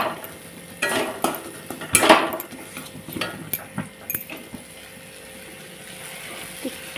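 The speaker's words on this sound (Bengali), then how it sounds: "মশলাটা কিন্তু আমি সুন্দরভাবে একদম কষিয়ে নিচ্ছি" Spice paste for a pointed gourd (potol) curry is stir-fried in a pan, with a spatula scraping and clinking against the metal in irregular strokes over a soft background sizzle, close by and without talk.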